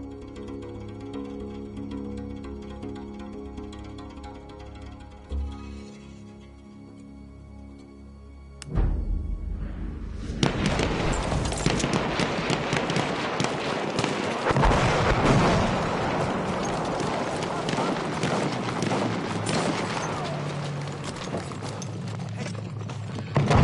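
Artillery fire in a PS4 war game. After a quieter stretch of background tones, a sudden loud blast sets off a dense, continuous barrage of booming explosions and crackling bursts that rumbles on without pause to the end.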